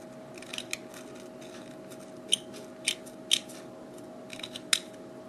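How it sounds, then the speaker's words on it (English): Scissor blades scrape against the edge of a metal groove on a Kryton part, producing several sharp, bright scratches and clicks at irregular intervals over a faint steady hum, close up, with no voices. "I've been taking scissors, just putting it up against the side and twisting the head around it."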